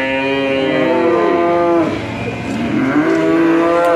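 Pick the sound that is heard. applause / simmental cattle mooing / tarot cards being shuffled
simmental cattle mooing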